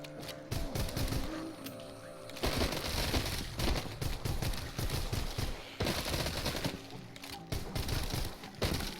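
An Uzi submachine gun fires in the VR game Arizona Sunshine, in rapid bursts of automatic gunfire broken by short pauses.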